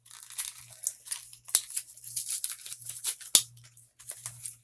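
Plastic packaging from a Dollar Tree haul being torn and pulled open by hand, giving repeated crinkling and ripping bursts with a couple of sharp snaps, close and fairly quiet, with no talking.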